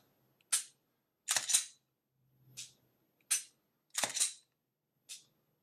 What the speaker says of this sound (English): if I hold the trigger all the way to the rear and I rack the slide